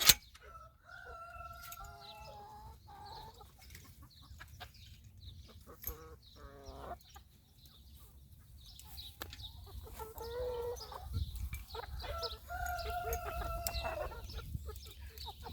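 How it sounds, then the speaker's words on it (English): Chickens and a rooster scratch at spilled feed in the grass, clucking and chattering at close range, with occasional louder calls over a low outdoor rumble. "They already ate earlier in the coop, so right now I just emptied their feed pans in the grass, so that's what they're scratching at basically."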